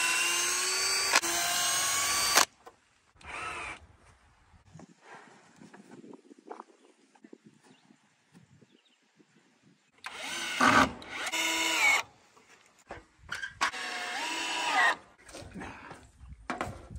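A power drill unscrews a board on a mobile chicken coop built from rough cut lumber, whirring in loud close bursts at the start and again later, separated by quieter handling noises.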